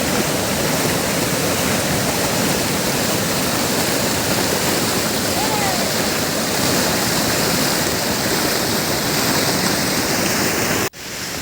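Floodwater roars over Rajupalem waterfall in a steady, loud, dense rush that carries on without a break, then dips sharply for a moment near the end.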